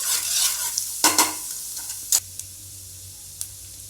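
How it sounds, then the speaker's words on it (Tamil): Grated garlic sautéing in butter in a pan gives a steady, close sizzle, broken by a few sharp clicks and scrapes of a stirring utensil. "வாணல்ல பட்டர் போட்டுக்கோங்க. துருவி வச்சிருக்க பூண்டு போட்டுக்கோங்க. நல்லா வதக்குங்க."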